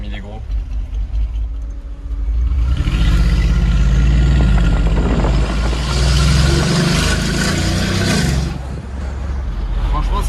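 A Mercedes G-Class 4x4 Squared in Monaco rumbles loudly, its engine swelling into a deep, sustained roar for several seconds before easing back, with street noise and voices around it.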